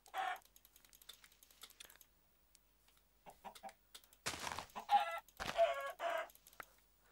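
Chickens in Minecraft cluck and squawk in short bursts, a few soft clucks early and then louder, busier clucking near the end, alongside faint clicking.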